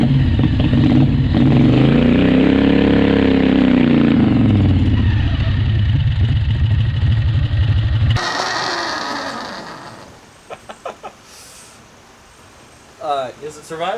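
A 670cc off-road go kart engine revs loud and close for about eight seconds, rising and falling in pitch, then cuts back to a low idle while a few brief knocks and voices follow near the end.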